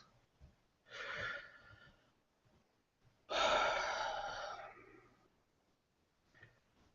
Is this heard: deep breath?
yes